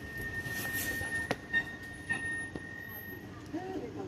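An electric zoo monorail train at the Bronx Zoo brakes and halts on its track behind another train, giving a low mechanical rumble with a few sharp clunks and a faint steady whine; no speech is heard.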